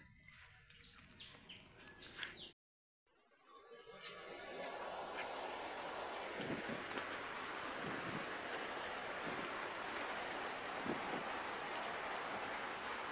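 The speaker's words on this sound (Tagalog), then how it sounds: "konting-konting ulan, lumakas. So, ayan, ulan talaga" Steady rain hisses close by, a dense wash of patter that starts after a short pause and continues without letup.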